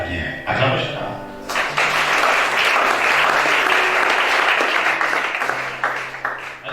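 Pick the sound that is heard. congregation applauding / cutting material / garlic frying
congregation applauding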